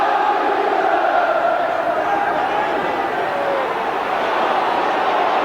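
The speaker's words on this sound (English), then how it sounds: "And the crowd respond." A football stadium crowd at a Tottenham versus Sheffield United match roars after a header goal, a sustained loud swell of cheering voices that holds steady throughout.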